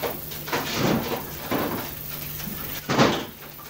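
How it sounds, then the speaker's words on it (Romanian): A terrace door is opened in a radio play: three separate rattling, scraping bursts from the handle and frame, fairly close, with quiet room tone between them. "Deschide ușa de la terasă."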